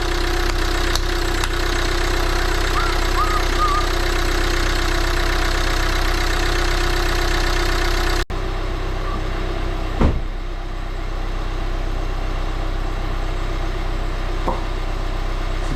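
A Volvo D2 diesel engine with a new cambelt, cam sensor, diesel filter and rockers idles steadily after starting, a close, even rumble with a faint ticking clatter and a brief knock partway through.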